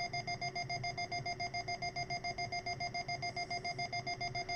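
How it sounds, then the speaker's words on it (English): Steady string of Morse code CW dits from a radio transmitter, received as a clean continuous tone keyed on and off in a fast, even rhythm, with a low hiss underneath and no voices. "Send a series of dits."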